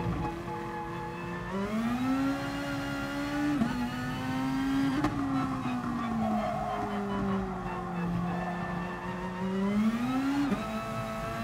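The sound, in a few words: race car spinning and skidding in GT Sport video game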